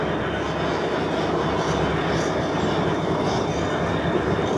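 A freight train rolls steadily past up close, its last car a Conrail auto rack, with a continuous broadband rumble and rattle holding level throughout and no clear individual clicks.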